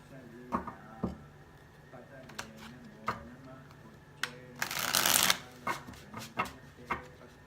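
A Universal Tarot card deck is shuffled with crisp riffling bursts and scattered sharp card taps, including one dense fluttering riffle midway, close and fairly quiet.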